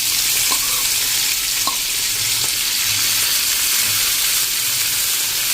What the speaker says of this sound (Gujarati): એને આપણે હલકી એવી ફ્રાય કરી લેશું